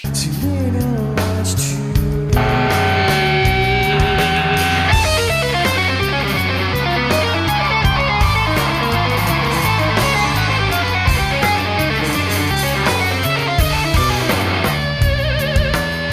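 A heavily distorted electric guitar plays a gritty, sustained riff, loud and saturated, with chords ringing out and no talking.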